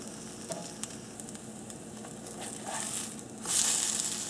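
French toast hot dog buns fry in a non-stick pan, giving a steady, soft sizzle that holds through the clip and grows a little louder near the end, with a few faint clicks of handling and no talking.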